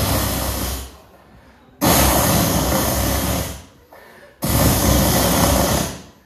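Construction-site noise is played as a gag in a stand-up comedy show: harsh, hissing, grinding bursts lasting about two seconds each, separated by short quieter gaps.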